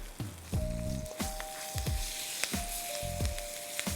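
Curry leaves hit hot oil in a frying pan, bursting into loud crackling sizzle with sharp pops and spits that flare in repeated waves over a steady frying hiss, close up.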